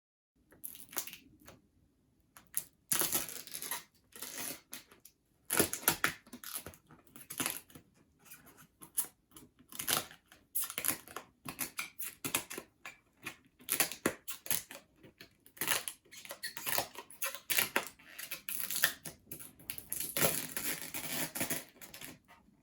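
Packing tape being peeled off the cardboard box of an onn. 32-inch 720p Roku smart TV, a run of close, sharp ripping and crackling bursts in an irregular rhythm, loud against quiet gaps, with no talking.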